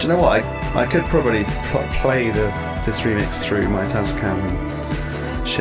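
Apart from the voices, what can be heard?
No everyday noises stand out.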